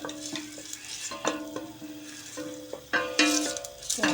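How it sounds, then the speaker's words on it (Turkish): Ingredients for a bean stew sauté in oil in a pan, giving a steady close sizzle broken by repeated scraping stirs and clinks of the utensil against the pan, with no talking. "Bunları bir güzel kavuracağız."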